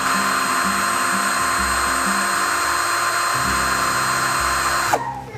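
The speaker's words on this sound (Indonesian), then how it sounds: "Sekarang kita uji RPM-nya di percepatan nomor 1 terlebih dahulu." Kapusi 12V cordless drill driver running on speed setting 1, a steady close whirring motor whine held for several seconds before stopping abruptly, with faint background rumble after it stops.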